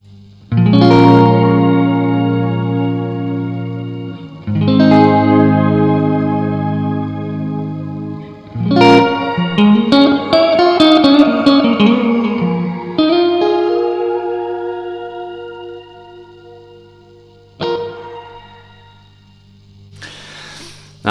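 Electric guitar chords played through a Keeley Caverns V2 pedal on its shimmer reverb setting: several strummed chords ring out and swell with a bright, octave-up reverb wash, each left to sustain and decay before the next, with no talking.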